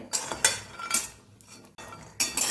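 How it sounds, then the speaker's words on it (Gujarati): Peanuts dry-roasting in a pan over medium gas, stirred with a metal utensil, making repeated scraping clinks and rattles in bursts about every half second, with brief pauses between strokes. "તો અહીંયા આપણે ફેરવતા માંડવીના દાણાને આવી રીતે શેકી લેવાના છે"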